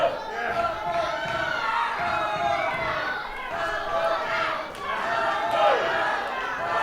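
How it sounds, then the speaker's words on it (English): A crowd at a professional wrestling show cheering for wrestler Dan Splash, a loud, continuous swell of shouts, chanting and chatter with surges and dips. "Crowd firmly behind Dan now."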